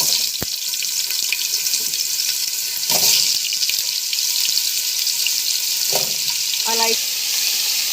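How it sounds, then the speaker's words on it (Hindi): Carrots frying in hot ghee in a pan for gajrela, a steady broadband sizzle throughout with a few stirring knocks and clatters, close and fairly loud, with no talking. "अच्छे से इसको मिक्स करूँगी, 1-2 मिनट के लिए फ्राई करूँगी गाजरों को घी में अच्छे से"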